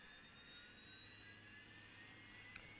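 Dash8-Q400 turboprop engine spooling up after the starter press in the X-Plane 11 flight simulator, a steady, faint whine that climbs slowly in pitch over a low engine rumble, with no talking.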